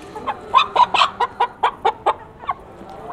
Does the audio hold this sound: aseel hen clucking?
yes